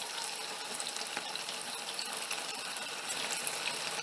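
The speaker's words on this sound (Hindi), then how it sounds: "चिकन को नूडल से अच्छे से रैप करने के बाद हम इसे डीप फ्राई कर लेंगे।" Thread chicken wrapped in noodles deep-frying in hot oil, a steady soft hiss and bubbling with faint crackles, close but fairly quiet.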